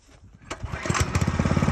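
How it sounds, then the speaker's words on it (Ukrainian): A small motor water pump engine catches after a brief start and settles into a steady, rapid putter, close and fairly loud. "Запускаємо мотопомпу"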